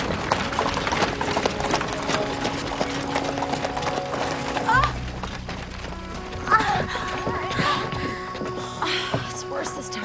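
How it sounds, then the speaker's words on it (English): A horse's hooves clip-clop at a steady pace as it is ridden away across the countryside, mixed in with background music and other sound, with a louder thump near the middle. "She rode off on that crazy horse I bought for her."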